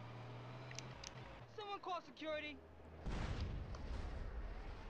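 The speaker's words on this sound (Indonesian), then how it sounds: "Langsung meledak mobilnya." A quiet stretch of faint voices gives way to a sudden loud explosion as a car blows up from dynamite in GTA San Andreas on Android, followed by a rumbling blast that lingers to the end.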